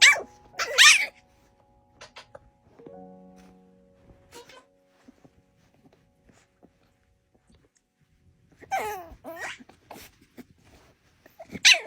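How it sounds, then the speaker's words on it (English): A hairless puppy growls and barks at another dog trying to share its bed: sharp bursts of close barking open the clip, a low growl rumbles in the middle, and a second flurry of barks and yips comes near the end. "The moment his best buddy tried to squeeze into his cozy little nest, Nugget made his opinion crystal clear"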